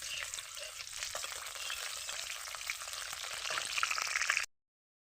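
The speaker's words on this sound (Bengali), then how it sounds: "এগুলো একটু ভাজা ভাজা হোক" Cumin seeds and bay leaves frying in hot oil in a kadai, a steady crackling sizzle running close and continuous for about four and a half seconds, swelling slightly louder near the end before it cuts off.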